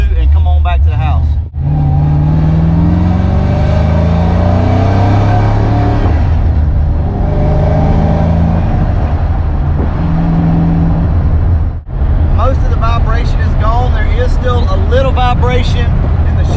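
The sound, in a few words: car driving and accelerating hard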